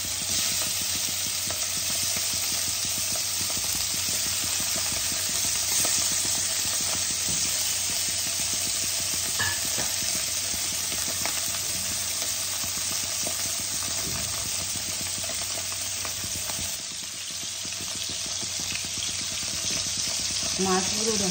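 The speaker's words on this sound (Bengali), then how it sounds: "মাছগুলো দেখো আমার ভাজা হচ্ছে।" Boroli fish pieces fry in hot oil in a pan, crackling and sizzling continuously at an even, close-up level for the whole stretch.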